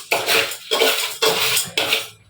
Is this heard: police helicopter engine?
no